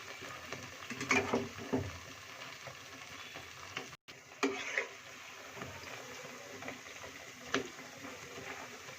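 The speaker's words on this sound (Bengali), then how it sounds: "দেখুন এগুলো ভাজা হচ্ছে, আস্তে আস্তে লাল লাল হচ্ছে।" Soft, steady sizzle of malpua frying in hot oil, with a few scraping stirs and clinks against the pan.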